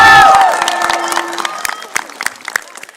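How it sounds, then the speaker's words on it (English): Graduation convocation audience cheering loudly for their families and friends: a burst of shouts and whoops at the start, then thinning into scattered applause and claps across a large indoor crowd. "give them the loudest cheer you can muster"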